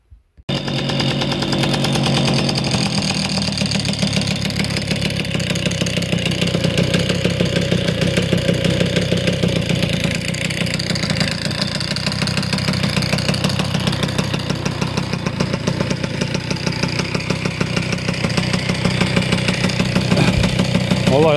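An MBK Magnum moped engine, still cold, starts with a short burst and settles into a loud, steady, close buzzing idle that runs unbroken with a slight rhythmic flutter.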